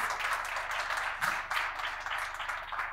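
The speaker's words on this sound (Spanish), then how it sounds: "Aplausos." Audience applause at a business technology conference in an auditorium, a steady wash of clapping hands holding at even strength throughout with no talk over it.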